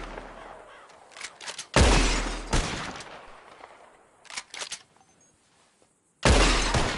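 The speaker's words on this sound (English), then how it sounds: "Whoever shoots more of these bottles wins." Gunfire in Red Dead Redemption 2 as bottles are shot and shattered, with several sharp, loud broadband blasts spaced apart, each followed by a decaying tail, over quiet ambient outdoor background.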